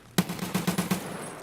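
Automatic gunfire in Escape From Tarkov: a close, rapid burst of about seven evenly spaced shots in a little under a second, followed by a brief fading echo, with no talking.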